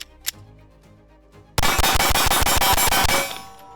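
Ten rapid pistol shots with Federal HST ammunition from a UL comp pistol, loud sharp cracks at a fast even rhythm after a quiet lead-in with a faint metallic clink, then a fading echo.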